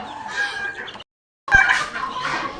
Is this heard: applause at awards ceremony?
no